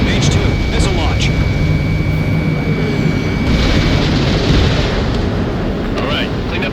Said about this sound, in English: Mage 2, missile launch